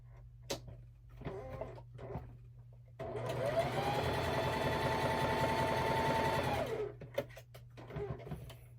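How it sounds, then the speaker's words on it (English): A sewing machine stitches quilt block pieces together in one steady, close, whirring run of about four seconds, with quiet handling sounds and clicks before and after. "Just want to get these pieces in"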